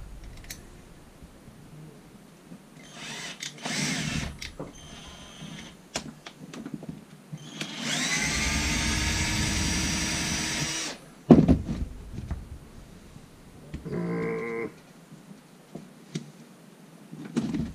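A power screwdriver drives screws out of the bumper of an Arrma Big Rock RC truck, giving several short whirring bursts and one longer steady whine of a few seconds, close up, between quieter handling noises.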